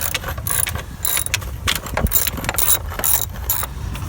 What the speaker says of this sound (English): I'm just using my ratchet with the extension bar, and I'm just going to go ahead and release the 11 millimeter bolt